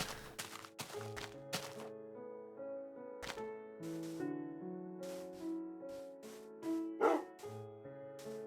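A dog-bark alert sound effect plays during a gaming live stream, with short barks and yips among bright musical tones in a brief, moderately loud jingle.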